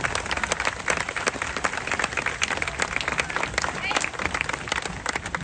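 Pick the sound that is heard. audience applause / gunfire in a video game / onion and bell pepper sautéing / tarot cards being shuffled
audience applause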